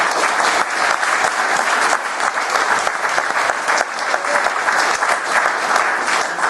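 Wedding guests at the speeches clap together in a loud, dense, continuous round of applause that fills the room for several seconds without letting up.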